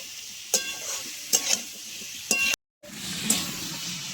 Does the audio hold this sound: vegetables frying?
yes